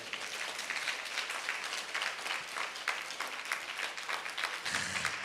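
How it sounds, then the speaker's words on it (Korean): A church congregation at a Sunday baptism service applauds an elderly newcomer, a dense, steady wash of many hands clapping that stays fairly even throughout, with a faint low murmur near the end. "여러분 특별히 박수로"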